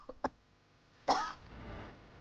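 A woman in her sixties, out jogging in winter clothes, coughs twice in quick succession. A pause follows, then one harsher, longer cough, close to the microphone and with no talking.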